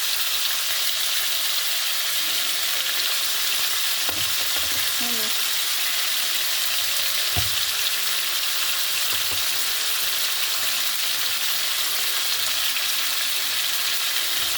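Onion fries in a pan with a steady, dense sizzle that holds at a constant level, broken by a few faint utensil taps and scrapes, with no one speaking.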